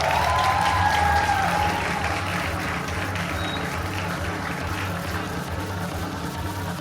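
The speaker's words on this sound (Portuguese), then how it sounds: "Peço os aplausos para o Dr. Cleilton Mendes Passos." Audience applause for Dr. Cleilton Mendes Passos at a ceremony, a steady, dense clapping from a crowd that holds at an even level for the whole stretch, slightly fuller at the start, with no voices over it.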